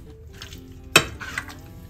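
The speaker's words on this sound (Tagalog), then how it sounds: "At bigyan po natin ng mabilisang halo." A spoon gives garlic a quick stir in a hot cooking pan, with a sharp metallic clink near the middle and soft scraping and faint sizzling around it.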